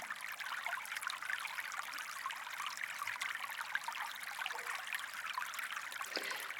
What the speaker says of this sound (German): Das ist das gleichmäßige Geräusch von langsam fließendem Wasser.